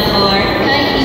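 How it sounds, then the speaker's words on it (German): A train pulls in at Tokyo Disneyland as a loud, steady rumble with a high rail squeal layered on top, close and continuous throughout. "Ist das unser Zug, der schon kommt?"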